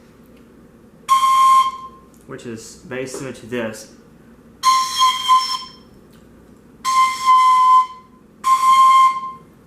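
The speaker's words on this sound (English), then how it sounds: "So if I had to blow on this thing, it would sound like this," Someone blows across a cone-shaped tube, producing four separate breathy whistle-like tones, each held about a second, close and clear. A short spoken phrase comes between the first and second tones.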